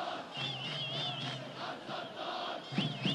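A stadium crowd of armed forces men chants the name of footballer Abdel Sattar Sabry at his retirement match, a loud, steady, massed roar of voices with rising whoops that continues throughout.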